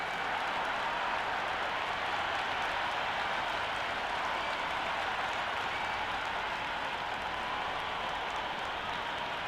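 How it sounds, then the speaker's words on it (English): A steady crowd roar from a stadium audience in the cricket video game Cricket 26 runs as a continuous, even wash of noise throughout, fairly faint and with no clear voices. "this crowd is already making it hard for me to be heard"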